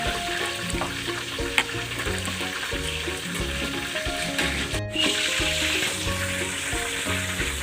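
Kare-kare coconut milk sauce sizzles and thickens steadily in a pan, a loud continuous frying hiss with light stirring scrapes and one brief sharp tap.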